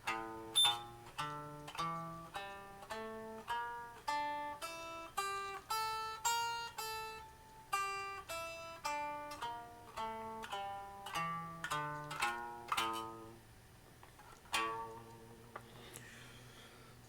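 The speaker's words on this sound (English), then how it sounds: "Let's get to the Japanese scale" Melodic plucked notes, likely a koto-like instrument, play a Japanese pentatonic scale in clear, evenly spaced single tones that step up and down in a steady rhythm, alone with no talk, fading out near the end.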